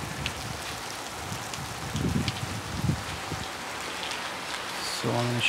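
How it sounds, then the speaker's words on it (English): Steady light rain patters on surfaces outdoors at Jia Bagga Railway Station near Lahore, a soft continuous hiss with occasional louder drops and a faint rustle. "The rain has just started."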